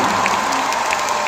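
A concert crowd at a live show applauds a guest singer, a steady, loud wash of clapping mixed with a few scattered cheers.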